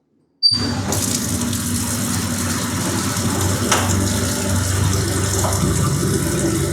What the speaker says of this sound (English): So we'll turn on the water because the gas is already sat up.